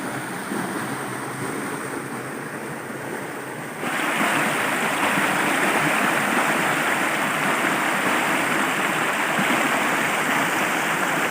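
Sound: waterfall in the forest

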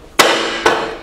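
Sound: tapping an aluminium plank into a Rhino-Rack alloy tray

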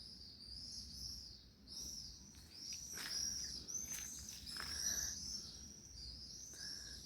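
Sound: birds chirping

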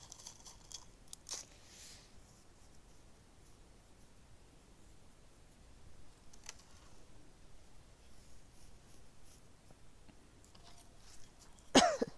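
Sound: cough

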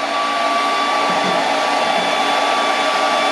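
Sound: hair dryer running as load for LiFePO4 battery test

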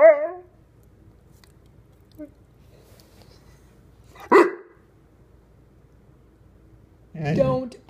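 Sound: dog barking

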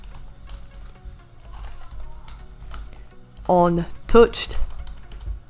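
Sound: typing code on a computer keyboard

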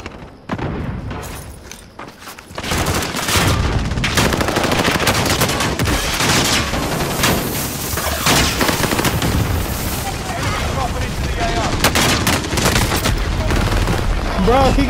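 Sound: gunfire in video game Call of Duty Modern Warfare

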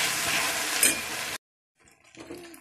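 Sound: ginger garlic paste sizzling in oil

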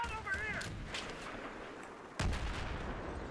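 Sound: gunfire in video game Battlefield 3

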